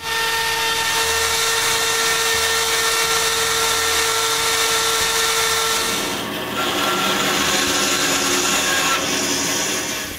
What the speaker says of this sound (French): je fais une vis en bois pour tenir le bonhomme